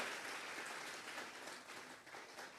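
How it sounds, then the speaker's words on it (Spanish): A church congregation at a Tuesday Bible study service claps together in sustained applause, a dense, even wash of many hands filling the room with no pause. "Vamos a regalarle ofrenda de palmas al Dios de la gloria, Jesucristo"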